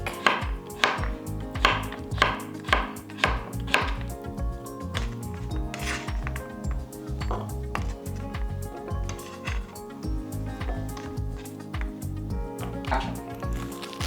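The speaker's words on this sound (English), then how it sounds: "So let's cut the zucchini. Let's cut it just like this." A knife slices through zucchini on a cutting board in a home kitchen while making Korean hotpot, giving a quick run of sharp rhythmic chops, then looser cuts under background music.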